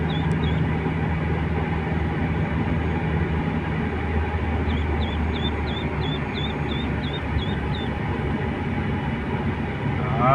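A steady rumbling roar of a passing light rail train, with a run of faint high squeals over the continuous noise.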